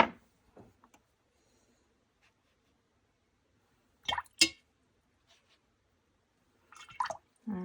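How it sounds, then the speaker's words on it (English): Water drips onto NeoColor II water-soluble crayon artwork in a few soft, separate drops and small taps. Long silent stretches fall between them, all quiet and close, with no talk. "adding some water."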